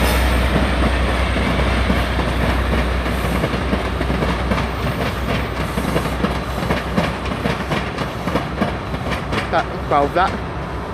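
Train rolling through Exeter St Davids station, a loud, continuous rumble with rhythmic wheel clatter over rail joints and a brief squeal near the end, with someone talking over it.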